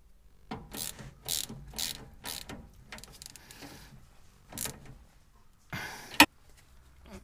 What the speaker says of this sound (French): Serrage au couple, normalement je crois que c'est 45 Nm.